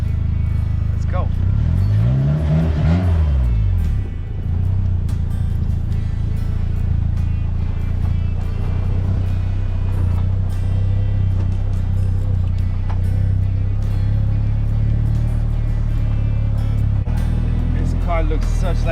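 A 2016 Polaris Slingshot drives along a road, its engine a steady loud drone with a rise in revs early on, heavy wind buffeting throughout, and people talking over it.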